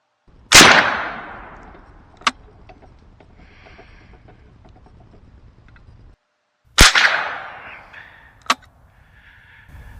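Two sharp, loud cracks from a 17 HMR rifle, each followed a moment later by a bright metallic ping as the bullet strikes a 3/8-inch-thick round steel plate downrange; the pairs are spaced several seconds apart outdoors.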